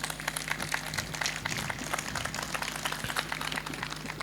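Audience applause at a Hindi comedy poetry show, a dense and steady patter of many hands clapping at once that carries on evenly throughout.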